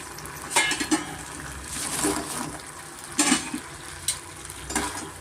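Fried leftover idli pieces tossed and stirred in a frying pan for idli manchurian, with repeated bursts of sizzling and scraping in an irregular rhythm, close and moderately loud, no talking.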